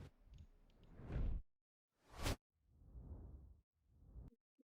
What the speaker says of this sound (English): I'm just gonna do like a normal whoosh.